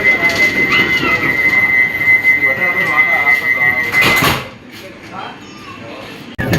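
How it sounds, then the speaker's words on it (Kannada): Automatic sliding door on a Vande Bharat train closing at a station stop: a rushing whoosh ends abruptly, then the carriage goes quieter. Voices and train ambience run underneath. "ಆಟೋಮೆಟಿಕ್ ಡೋರ್ ಕ್ಲೋಸ್ ಆಗುತ್ತೆ"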